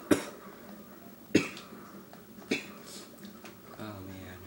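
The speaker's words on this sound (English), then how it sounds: "you guys might hear me cough a lot because I'm kind of sick" A sick man coughs three times at even gaps, each cough sharp and close, and he starts speaking briefly at the end.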